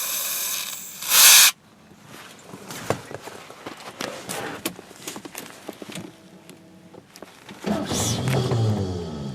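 A spray can squirts into the engine of a Ford plow truck in a short, loud hissing burst near the start, followed by clattering handling noises and a second rougher hissing stretch toward the end.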